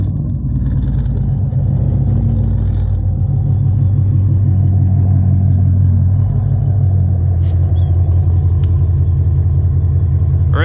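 Sixth-generation Camaro running long tube headers, MagnaFlow mufflers and no catalytic converters, on E85, with a deep, loud exhaust rumble settling into a steady throaty idle close by, no voices.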